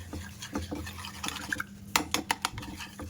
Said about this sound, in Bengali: ডিম আর কনডেন্সড মিল্কটা মিশিয়ে নেব ভালো করে।